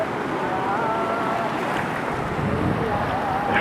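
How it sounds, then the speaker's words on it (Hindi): A river roars where two streams meet at a Himalayan confluence in Uttarakhand, with steady churning water and wind buffeting the microphone throughout. "उछलती हुई पानी की लहरें से बनती गर्जन इस नदी को श्रेष्ठ बनाती है"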